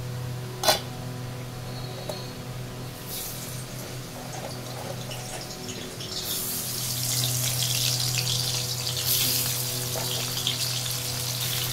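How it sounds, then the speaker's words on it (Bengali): Prawns coated in salt and turmeric fry in mustard oil. A quiet background with a single early knock gives way midway to a loud, steady, close sizzle that continues to the end. "মাছগুলোকে নুন হলুদ মাখিয়ে নিয়েছিলাম, এরপরে একটু ফ্রাই করে নেবো সরষের তেলে।"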